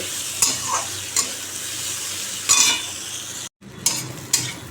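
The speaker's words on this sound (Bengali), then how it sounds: "আমার হয়ে গেল কুমড়ো নিম পাতা ভাজা কড়া করে দিয়েছি" Pumpkin and neem leaves frying in a pan give a steady sizzle, with scraping stirs and a brief dropout near the end.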